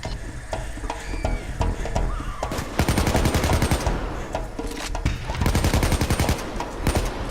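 Rapid automatic gunfire from the heist shooter game Payday 2, dense bursts of rattling shots that swell into a sustained loud barrage with scattered single cracks, close and continuous throughout.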